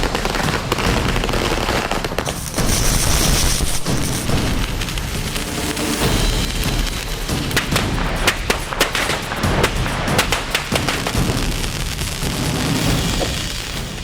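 Firecrackers burst at night in Delhi NCR during Diwali, a dense continuous barrage of loud cracks and booms, some near and some farther off, with no talking.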